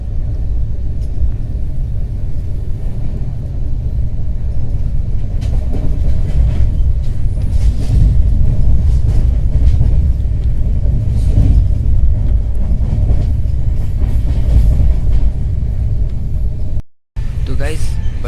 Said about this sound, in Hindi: हम लोग की ट्रेन अभी ओवरटेक कर रही है उड़ियान एक्सप्रेस को